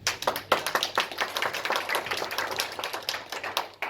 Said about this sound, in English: You can't clap for everybody.